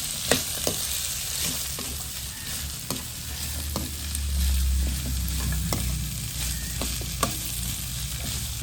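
Jackfruit seeds sauté in a pan with a steady broadband sizzle, broken by sharp scraping stirs of a spoon against the metal at irregular intervals, close and fairly loud with no voices.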